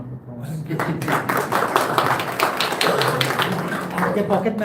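A small indoor crowd applauds a birthday celebrant with dense, continuous clapping at close range, while voices talk over it.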